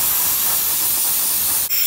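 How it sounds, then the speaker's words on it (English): An air compressor blows a loud, close, steady hiss of air into a grandfather clock movement, which briefly dips just before the end. "I'm just gonna start with an air compressor and just blow on it"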